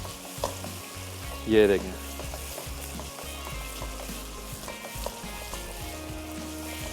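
Onions and tomatoes fry in oil for a creamy daal, with a loud continuous sizzle and scraping stirs throughout. A voice speaks briefly over it early on.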